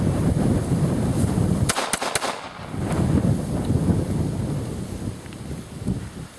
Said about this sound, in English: See if I can get 3 rounds off here, see if I can cause a jam.